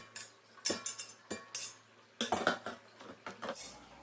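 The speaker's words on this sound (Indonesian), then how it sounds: "Kita aduk." Spaghetti carbonara with ham and bacon being stirred in a pot with the heat off, giving repeated metal utensil scrapes and clinks against the pan in irregular bursts, close and moderately loud with no talking.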